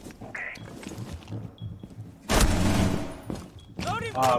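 Gunfire in the Rainbow Six Siege video game, bursts of shots with a loud sustained volley in the middle and sharp cracks near the end, over quieter game sounds and intermittent voice chat.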